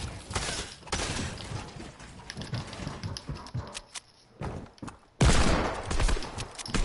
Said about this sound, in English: They're shooting my builds.